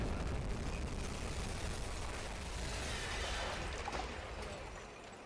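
A torpedo explosion striking a ship in the submarine game UBOAT, heard as a loud, sustained rumbling blast that fills the whole clip and slowly fades toward the end, with no voices.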